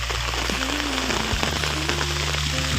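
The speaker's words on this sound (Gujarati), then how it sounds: "ઘડીકમાં તો સારો વરસાદ પડી ગયો." Heavy rain pours over a village in a steady, dense wash of patter that fills the whole stretch without pause. A few faint tonal sounds drift underneath.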